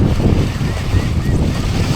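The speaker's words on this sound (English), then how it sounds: "It's pretty gusty for sure." Strong, gusty wind at a beach during kitesurfing roars into the microphone as a loud, continuous rumble with surf noise beneath it.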